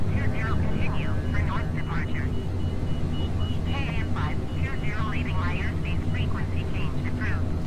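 A Eurofighter Typhoon in Microsoft Flight Simulator climbs just after takeoff from San Francisco, its engine a steady low drone beneath continuous talking.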